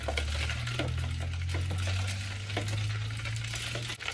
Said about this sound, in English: I'm just gonna mix this a little bit so that the lechera doesn't sit at the bottom